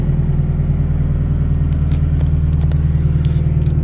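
A Mazdaspeed 3 with full VVT and a freshly installed oil catch can idles steadily, its engine giving a loud, continuous low rumble with an even pulse and no talk over it.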